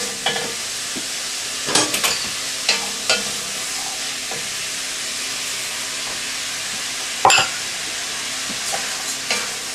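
Rice is stirred gently into softened vegetables in a pan for an oven-baked chicken and vegetable risotto. A steady close sizzle and hiss runs throughout, broken by a few scraping spoon strokes and one louder clatter.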